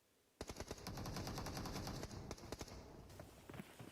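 An M60 machine gun fires in PUBG Mobile, a sharp opening shot followed by a sustained rapid burst of close, loud rounds, a short pause, then a few more scattered shots.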